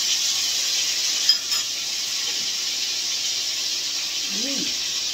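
Garlic sizzles steadily as it is sautéed for fried rice made from leftovers, a bright continuous hiss of frying in a pan, close and even, with a brief murmur of a voice near the end.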